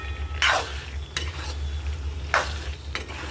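Pasta being stirred in a pan on a hot stove, with a few scraping, sizzling strokes of the spoon at uneven intervals over a steady low burner hum.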